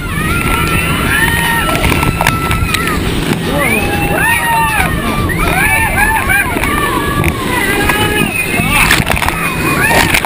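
Whitewater rapids on the Snake River while rafting, the fast Lunch Counter stretch: steady loud rushing and splashing water throughout, with excited voices and shouts over it.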